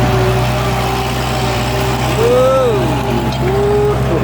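A Kubota L5018 tractor plowing a rice field runs with a steady low engine drone and a constant hum, while a faint whine rises and falls in pitch partway through.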